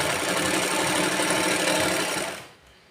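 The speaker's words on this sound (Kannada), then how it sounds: "ಇವಾಗ ಬ್ಲೌಸ್ ಸ್ಟಿಚ್ ಮಾಡ್ತಾ ಇದ್ದೀನಿ" A sewing machine stitches a blouse with a steady, close mechanical whir that runs for about two and a half seconds before dropping off to quiet.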